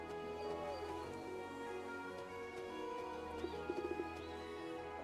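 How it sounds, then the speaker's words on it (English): Pigeons in the video game The Witch's Bakery, soft short coos and chirps that come late and are faint over a steady hum of background music. "Pigeons!"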